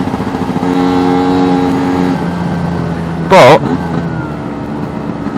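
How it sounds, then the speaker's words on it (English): A new two-stroke engine being run in revs steadily with harmonic engine tones, then rises through the revs in a short loud burst before settling back to idle, with brief speech. "So I can rev it through, rev it up."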